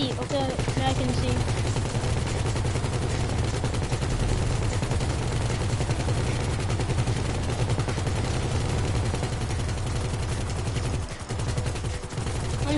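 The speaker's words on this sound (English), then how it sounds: "Now I can shoot him again." Rapid, continuous gunfire from the video game GTA 5 rattles on loud and close for the whole stretch, a dense automatic burst with a brief dip near the end.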